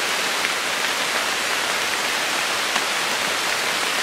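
Steady rain hisses on the surface all around during an early-season deer hunt in the woods, an even, dense patter with no speech.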